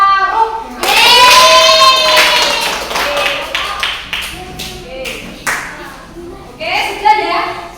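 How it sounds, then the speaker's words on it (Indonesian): Classroom group clapping for a student group after a presentation about melting butter, loud and close: brisk, uneven claps from many hands, with excited children's voices calling out over them at the start and near the end. "beri tepuk tangan buat kelompok Mas Faruk"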